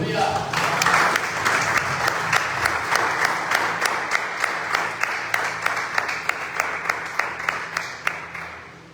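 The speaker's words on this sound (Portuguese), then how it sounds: "Que as palmas louvam o Senhor." A church congregation applauding during a worship service, steady full applause that settles into rhythmic clapping in unison, with voices underneath throughout.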